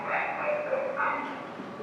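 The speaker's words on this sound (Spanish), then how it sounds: "Este es un perro que así es en todo lado, chilla." A dog with an anxiety disorder whines in thin, sustained, wavering tones during a veterinary consultation, close and fairly loud for under two seconds.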